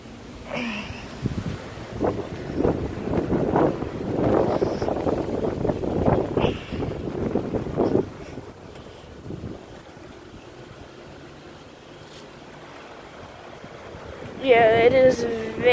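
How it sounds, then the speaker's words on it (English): Strong Hurricane Irma wind buffets the microphone with a low, roaring rumble, heaviest in the first half before easing. Voices are heard briefly near the end. "Yeah, it is very windy."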